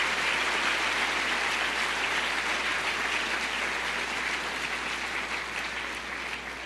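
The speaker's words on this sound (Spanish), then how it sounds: "Dele otro aplauso al Señor" A church congregation gives a sustained round of applause during a sermon, a dense, steady roar of clapping that holds evenly and tapers only slightly toward the end.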